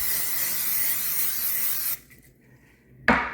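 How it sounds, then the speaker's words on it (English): Pam non-stick cooking spray hisses from the can into a bowl in one long, steady burst of about two seconds, close and loud, followed by a short pause and a sharp clunk. "So we're just gonna spray inside."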